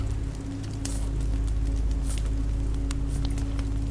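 Steady rain falls in The Walking Dead: Season 2 game, a constant close hiss of drops with a low rumbling bed and scattered sharper patters, heard alone without speech.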